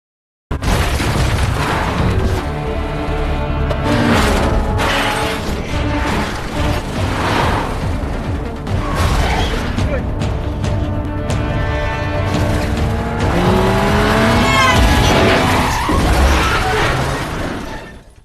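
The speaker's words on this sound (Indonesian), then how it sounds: "yang akhirnya terjadi tabrakan antara ketiga mobil itu" A car chase ending in a three-car collision, with loud shattering impacts, booming crashes and bursts of smashing metal and glass over a continuous dense roar of engines and tense music.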